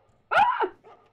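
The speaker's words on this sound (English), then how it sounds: "Hide. There's a doggy." A guard dog in the stealth video game Mark of the Ninja gives one loud, close bark followed by a softer short whine-like yip.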